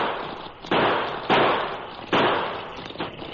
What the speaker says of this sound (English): In quick succession, he triggered out 6 shots.